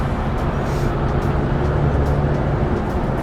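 A Chevrolet Silverado pickup with a small four-cylinder engine drones steadily while driving, a loud, continuous low rumble with a faint engine hum and no pauses.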